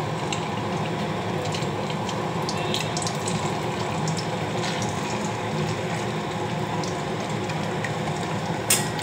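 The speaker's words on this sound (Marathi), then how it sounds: "अंडी टाकली आणि आता फ्राय करतो" Eggs fry in a pan of hot oil for egg curry, giving a steady, loud, close sizzling hiss with scattered small crackles throughout and a sharper pop near the end.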